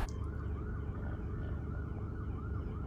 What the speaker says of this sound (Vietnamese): À, cảnh sát hú đó các bạn.